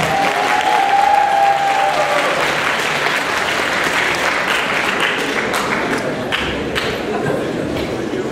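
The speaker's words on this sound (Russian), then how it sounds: "Под ваши громкие аплодисменты" An audience at a university pageant applauds loudly, with dense sustained clapping filling the hall and a brief tone fading out at the start.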